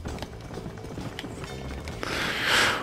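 Horse in the video game Red Dead Redemption, hooves clip-clopping at a quick gait and growing louder as it nears, faint and mixed with game ambience before a hissing rush at the end.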